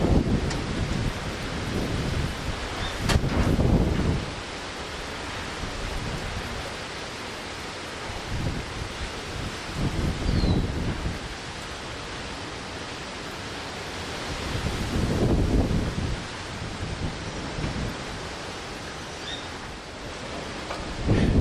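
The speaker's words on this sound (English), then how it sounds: "The first rain bands were already arriving to the south from the town of Patillas to Guayanilla, and the bands were already affecting the south" Storm noise from Hurricane Fiona's outer rain bands over southern Puerto Rico: a steady broadband roar of wind and rain, swelling into several deep rumbling gusts or thunder-like surges before easing again, with no voices.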